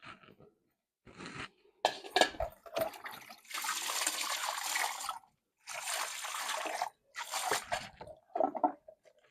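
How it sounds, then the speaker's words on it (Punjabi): Salted radishes and onions being washed in water by hand: bursts of splashing, squishing and sloshing come in uneven spurts separated by brief silences, close to the listener. "ਇਹਨੂੰ ਹੁਣ ਮੈਂ ਧੋਣ ਲੱਗੀ ਆ ਤਾਂ ਕਿ ਨਾ ਜਿਹੜਾ ਨਮਕ ਵਾਲਾ ਪਾਣੀ ਆ ਨਾ ਉਹ ਨਿਕਲ ਜਾਵੇ"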